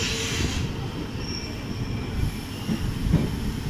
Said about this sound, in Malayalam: ചങ്ങനാശ്ശേരി റെയിൽവേ സ്റ്റേഷൻ എത്തി. ഇവിടെ സ്റ്റോപ്പുണ്ട് വണ്ടിക്ക്.